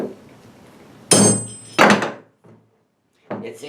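A hammer strikes a metal wheel hub to knock in divots for a loose lug stud, giving two sharp, loud blows close together, a faint tap, then a third blow after a pause.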